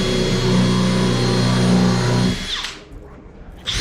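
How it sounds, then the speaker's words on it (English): Drill countersinking holes for fitting a latch and handle, a close, loud whirring grind for over two seconds that spins down, followed by a brief quiet and another short burst of the drill. "I countersink"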